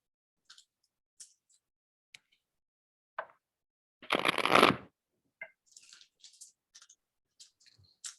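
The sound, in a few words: shuffling tarot cards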